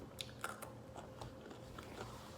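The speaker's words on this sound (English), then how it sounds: "You hear that crunch" Hard crackers from a twenty-year-old MRE being bitten and chewed up close, a series of faint, sharp crunches in an irregular rhythm.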